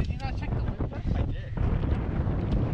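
Wind gusting over an open fishing boat, a loud steady roar of buffeting on the microphone, broken by the voices of people talking over it.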